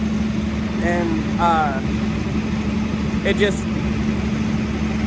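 A tractor engine idles with a steady low drone and hum throughout, close by, while a person talks over it in short bursts.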